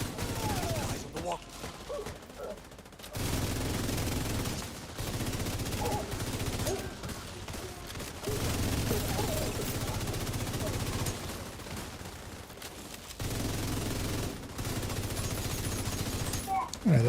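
Repeated bursts of video game gunfire while shooting burning enemies in a PvE raid, loud and sustained in long volleys with brief gaps between them, game sounds layered throughout.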